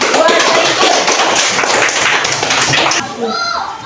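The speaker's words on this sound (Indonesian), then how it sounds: "Tepuk tangan untuk kelompok Zaitun" Children in a fourth-grade classroom clap loudly for the Zaitun group, a dense, close burst of applause that cuts off abruptly, followed by a brief moment of voices.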